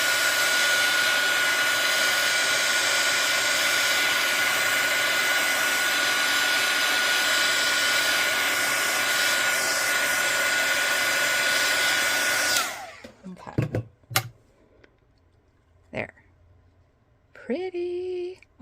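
A heat tool blows steadily and loudly for about twelve seconds, drying craft ink for embossing on a handmade card, then cuts off, leaving quiet handling noises and a few brief clicks.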